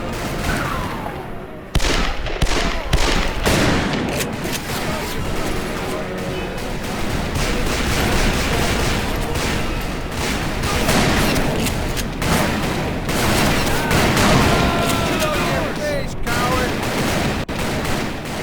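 Western shootout in the video game Call of Juarez: Bound in Blood, with dense, loud rifle and pistol gunfire cracking in rapid bursts throughout, along with shouting voices.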